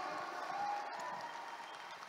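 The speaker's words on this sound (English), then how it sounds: "Can we all give ourselves a round of applause today?" An audience at a seminar talk gives itself a brief round of applause, a soft, fairly distant patter of clapping from a crowd that holds steady throughout.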